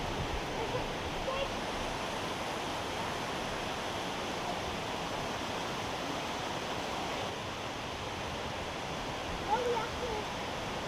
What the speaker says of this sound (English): And this beautiful river right down here.